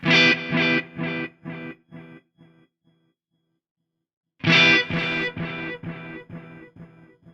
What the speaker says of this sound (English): You can hear that turning it up gives you tape distortion.